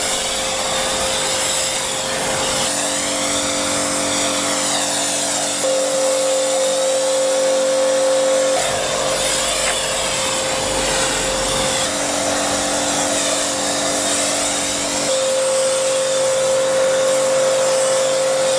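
Snow foam sprayed onto a car from a pressure washer lance, a loud continuous hissing spray with a steady machine hum and short breaks where the spraying pauses, close and with no talking.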